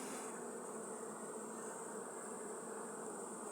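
Carniolan honey bees buzz steadily at an open hive during honey harvest, a dense, continuous insect drone close by with no pauses and no voices.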